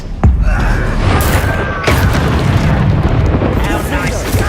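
A Bombarda spell explodes in the Hogwarts Legacy video game, a loud booming blast among dense combat effects, with a sharp impact near the start and another crash partway through, under ongoing battle noise and character voices.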